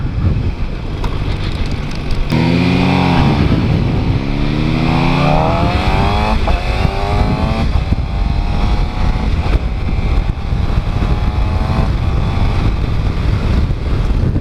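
A 2015 Suzuki GSX-R 600 sport bike runs loud and close under riding wind, its engine note climbing and falling through repeated revs and gear changes.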